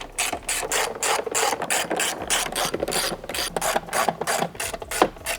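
A ratchet refits the 10 mm nuts on a carbon fiber APR intake in a Porsche 992 911, giving steady runs of close, crisp clicks with short pauses between strokes. No voices are heard.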